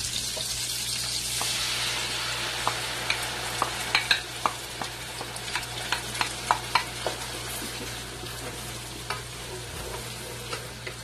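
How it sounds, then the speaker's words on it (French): Onion, garlic and tomato paste fry in hot oil for an Ivorian okra-powder sauce, a loud continuous sizzle and crackle with scattered sharp pops and spatters and stirring scrapes, up close with a low steady hum beneath and no talking. "Mon huile est bien chauffée, j'ajoute maintenant l'oignon et l'ail découpé"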